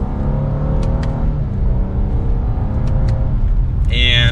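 A 2022 Lexus LS 500 F Sport sedan accelerating in manual mode, its engine note rising and shifting through gears as heard from the cabin, with a loud steady road rumble underneath and some talk mixed in.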